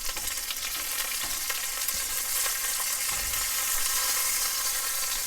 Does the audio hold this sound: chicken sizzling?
yes